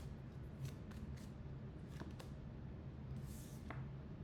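Soft, muffled riffling and slaps of tarot cards being shuffled during a reading, a quiet run of brushing bursts over a low background hum.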